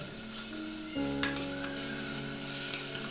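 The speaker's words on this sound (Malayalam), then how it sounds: "ഈ തക്കാളി കഷ്ണങ്ങളൊക്കെ ഒന്ന് സോഫ്റ്റ് ആവണം അതുവരെ ഒന്ന് ഇളക്കി കൊടുക്കണം" Chopped tomato frying with ginger garlic paste for chana pulao, giving a steady close sizzle with occasional light scrapes of a stirring spoon.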